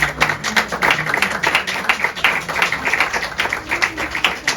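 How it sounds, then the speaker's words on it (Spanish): An audience breaks into applause at a literary talk, with distinct individual claps standing out sharply in a lively, uneven patter that keeps going throughout. "pido un aplauso para ellas hoy aquí"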